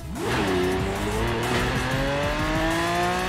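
A car in Forza Horizon 4 accelerates hard, its engine note climbing steadily in pitch through rising harmonics while tires squeal, loud and close throughout with no talking.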